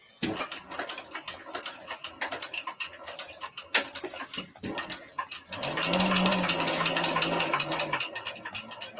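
A sewing machine top stitches a fabric toy, first as quick rhythmic needle ticks in short bursts, then as a longer steady run with a humming motor, close and moderately quiet.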